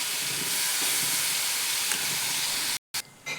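Curd chutney is poured into a hot pan with a pinch of turmeric and bursts into a loud, steady sizzling hiss that runs unbroken and then cuts off abruptly near the end.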